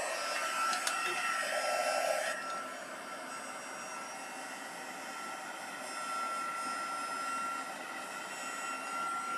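A heat tool blows hot air over a stamped watercolor card panel, a steady close whirring hum that drops slightly after the first couple of seconds and continues evenly to the end.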